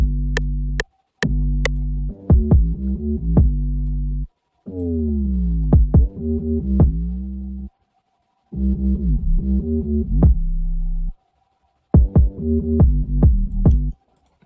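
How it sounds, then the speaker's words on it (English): Deep booming 808 kicks with long sliding low tails, repeating in a bouncy pattern with short gaps between phrases. "The kick sounds like this."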